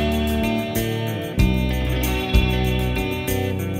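Electric guitar in a typical band tone, a clean ringing chordal part with a steady strummed rhythm and a couple of louder accented strikes, played alone at moderate volume.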